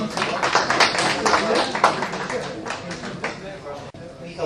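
Audience clapping and cheering for a fighter stepping onto the scale at a Fight Night fight-night weigh-in, a dense burst of applause that stays steady throughout with a voice over it.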